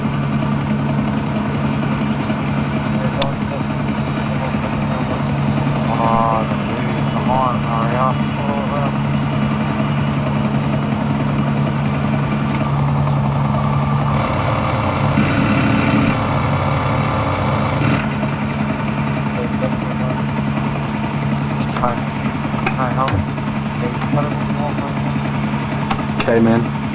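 A helicopter engine in Grand Theft Auto drones steadily throughout, a low mechanical hum with brief bursts of other game noises layered over it.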